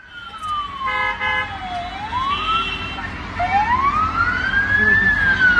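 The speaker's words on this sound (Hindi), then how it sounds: "ये सायरन बज रहे हैं।" A siren wails with long rising and falling sweeps, loud and steady, over a busy background of street noise and faint voices.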